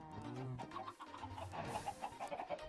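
Chickens cluck in the video game Project Nope Zone, a steady run of short clucks mixed with other game sounds throughout.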